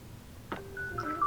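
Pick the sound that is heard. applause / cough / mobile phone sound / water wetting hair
mobile phone sound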